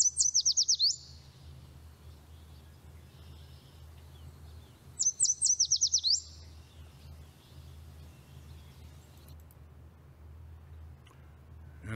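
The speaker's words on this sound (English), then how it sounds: "Yellow is the one you're probably more likely to hear than any other warbler." Yellow warbler song: two bright, rapid trilled phrases a few seconds apart, fairly close and clear over a steady low hum of background noise.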